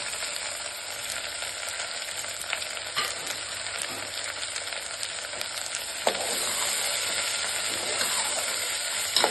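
Chopped carrot, potato and beans fry in oil for vegetable pulao, making a dense close sizzle that swells louder partway through, with occasional stirring scrapes and no speech.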